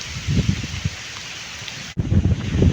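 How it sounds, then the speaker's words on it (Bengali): Heavy rain pours down on a cloudy afternoon with wind picking up, a dense, steady roar of drops that drops out for an instant before returning just as loud. "দেখেন কি মুষলধারা বৃষ্টি।"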